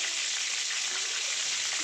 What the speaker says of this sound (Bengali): মা আঁচ একদম কমিয়ে দিয়েছে, দেখো, কেননা ভেতরটা কাঁচা তো, ওই জন্য আস্তে আস্তে করে ভাজা হবে